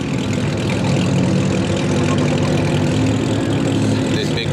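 A BMW engine at a car meet, running steadily close by with a low idling rumble as the car pulls away, over crowd murmur and background talk throughout.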